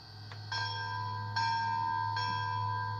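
The sound-equipped Bachmann Pennsylvania K4 streamlined model locomotive rings its bell in a slow, even series of four clear metallic strikes over a constant low hum, heard alone.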